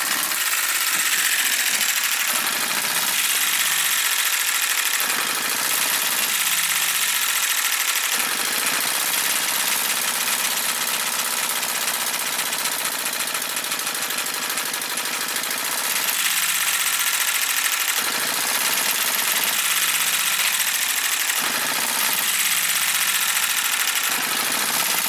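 A small Enjomor 6cc hit-and-miss engine running on petrol fires in irregular bursts separated by coasting gaps, a near, steady mechanical chuffing that carries on alone for about twenty-five seconds.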